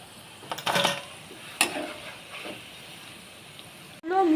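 Homemade potato chips frying in hot oil, a soft steady hiss and sizzle with a few brief louder bursts of stirring or movement, heard close and fairly quiet.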